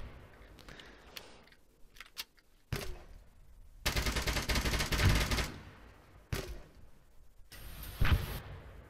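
Bursts of rifle and machine-gun fire crackle through an Arma co-op mission fought in fog, some volleys long and dense, others short and scattered, with quieter stretches between them.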